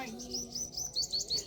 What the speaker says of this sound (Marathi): तिथं पण एवढे पक्षी आहेत ना.